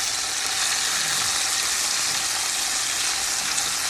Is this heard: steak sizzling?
yes